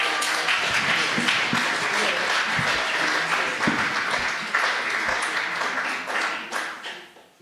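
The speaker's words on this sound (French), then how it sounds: "on peut l'applaudir quand même" Applause from a concert audience, dense clapping that holds steady and then fades out toward the end, with some voices mixed in.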